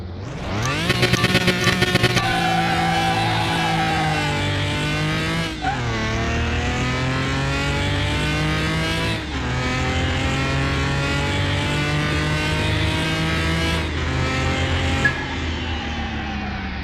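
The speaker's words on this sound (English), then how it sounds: "let's do quarter mile. Get to go against the Daytona Charger. Old school engine." Video-game race cars in Car Mechanic Simulator 2021 run a quarter-mile drag against a Daytona Charger, engines screaming upward through repeated gear shifts, each upshift dropping the pitch before it climbs again, loud and continuous with a tire squeal at the start.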